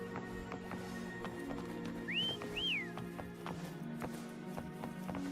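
Two short rising whistles in a video game, a quick call to a mount, over a soft background of rhythmic hoofbeats and faint ambient game music.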